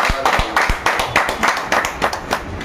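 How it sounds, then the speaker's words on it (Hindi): An audience claps at a gathering, brisk overlapping hand claps with a few louder close individual claps, sustained and fairly near. "इसके लिए जोरदार तालियां बजाइए।"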